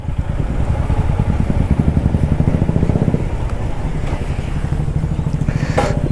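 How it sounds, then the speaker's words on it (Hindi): Motorbike idling and puttering as it is parked by the roadside, a close, loud chugging beat that shifts pace about halfway and settles into a rougher idle near the end. "Let me park my bike aside."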